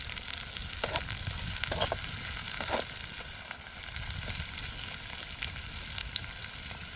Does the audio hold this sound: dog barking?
no